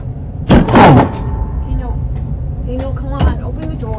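A door is forced and struggled with in a horror short, giving a loud rattling bang followed by creaks and a second thump, while a voice is heard.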